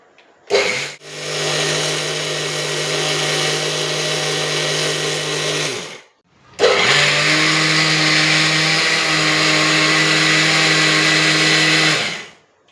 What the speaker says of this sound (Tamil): இந்த பருவத்தில் நாம் எள்ளை சேர்த்து பொடிக்க வேண்டும்.